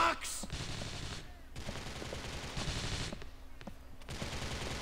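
Rapid shotgun and automatic gunfire in GTA IV: The Lost and Damned crack out in quick bursts with short pauses between volleys, loud and close over game ambience.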